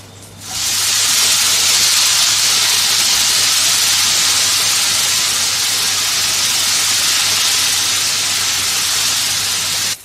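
Pirandai (adamant creeper) hits hot oil in a pan for a thuvaiyal, setting off a loud, steady sizzle that starts abruptly and holds without a break, with no talking.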